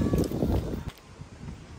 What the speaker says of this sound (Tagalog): super hangin, lakas ng hangin